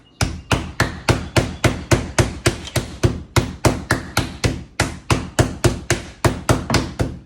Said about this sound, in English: And then I beat it a little bit to get it a little bit flatter.